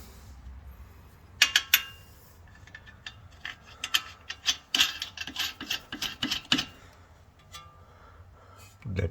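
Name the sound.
tightening Corolla strut bolts with a ratchet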